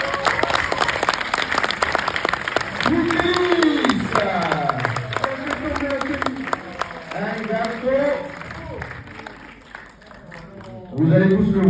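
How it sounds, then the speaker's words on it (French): A cinema audience claps and cheers at the premiere of the film Marius with Soprano, a crowd sound that swells and fades. Voices shout and talk over the clapping, and it ends in a louder burst. "Applaudissements."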